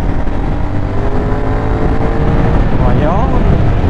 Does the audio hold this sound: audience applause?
no